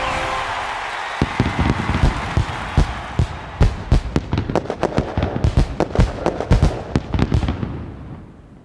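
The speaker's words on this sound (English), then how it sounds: "Fireworks." A fireworks effect in a FreeCell video game sounds as a rapid series of sharp crackling pops and bangs. They are loud and close and build into a dense burst before fading out.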